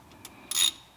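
Ratchet wrench with a 13mm deep socket tightening a bracket on a car, heard as a couple of faint clicks followed by a short, bright burst of rapid ratcheting up close.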